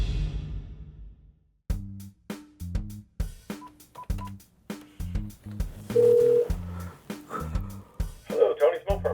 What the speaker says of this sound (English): it's time to phone my old buddy.